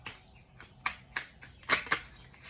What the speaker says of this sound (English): I'm going to cut the deck and pull 5 cards.